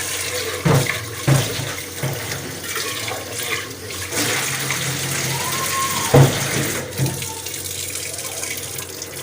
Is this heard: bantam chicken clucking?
no